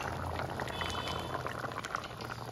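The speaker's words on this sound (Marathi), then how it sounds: "थोडंसं पाणी घालते" Potato and onion curry simmers in a pot with a soft, continuous bubbling and gurgle as water goes in, quiet and steady throughout.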